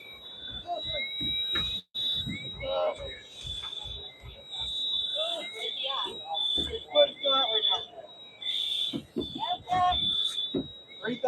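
A steady high-pitched electronic alarm beeps continuously while several people talk and shout over it.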